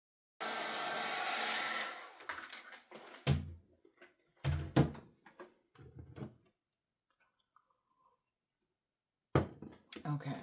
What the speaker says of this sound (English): I guess I will use my heat gun to dry that a bit.